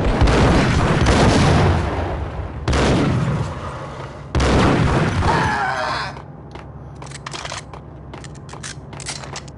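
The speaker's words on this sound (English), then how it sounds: "Oh shit, grenade!" Grenade blasts in the video game Max Payne: three loud, close booming explosions in quick succession, each with a rumbling tail, followed by quieter clattering debris and scattered clicks.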